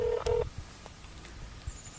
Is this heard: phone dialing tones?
yes